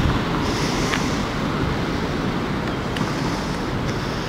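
Wind gusts along a canal towpath, a loud continuous roar buffeting the microphone with steady broadband noise throughout.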